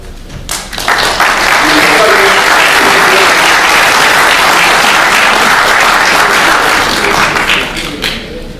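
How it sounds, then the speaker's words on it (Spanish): An audience at a congressional event breaks into loud, dense applause that swells quickly, holds steady for several seconds and then tapers near the end. "Pido un aplauso, por favor"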